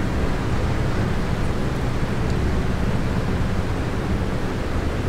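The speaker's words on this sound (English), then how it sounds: "I hope you can hear me okay over the engine noises." Piston engines of a Boeing 377 Stratocruiser in an A2A flight simulator drone as a loud, steady, broadband cabin roar that stays even throughout, with no talk over it.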